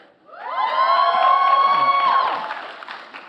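Audience cheering at a peace awards ceremony, a loud burst of voices shouting and whooping that rises quickly, holds for about two seconds, then fades into scattered clapping.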